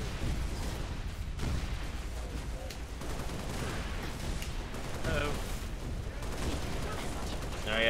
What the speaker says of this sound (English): Dropship turrets are the worst.